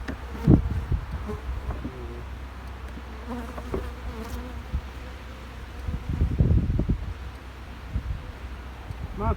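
Honey bees buzz around an opened hive during a spring cleanup, a low steady hum with louder swells as bees pass close by, alongside rustling handling noises.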